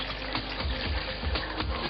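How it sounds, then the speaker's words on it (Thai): Water is poured slowly into a cup holding a ping-pong ball, making a continuous soft, hissing trickle with small splashy ripples at a steady level and no speech. "ผมจะค่อยๆ เทน้ำลงไปในถ้วย อย่างนี้นะครับ"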